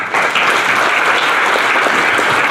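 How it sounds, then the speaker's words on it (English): A conference audience at a Hindu media session gives loud, sustained applause for Hari Kiran, with dense clapping from a full hall. "A round of applause for him, please."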